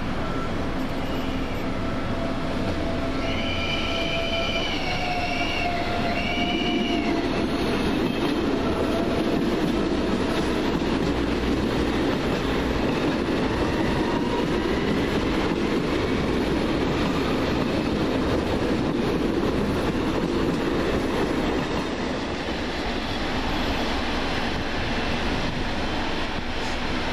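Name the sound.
train arriving at platform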